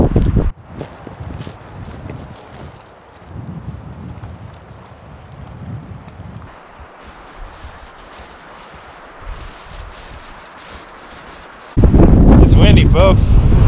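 Strong gusty wind buffets the microphone outdoors while someone walks over rough ground while shed hunting in Oregon, with steady rushing noise and a louder blast at the end.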